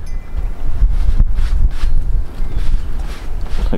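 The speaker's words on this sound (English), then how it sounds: "it's nice and windy out here today" Steady outdoor wind buffeting the microphone, a continuous low rumble with gusty surges throughout.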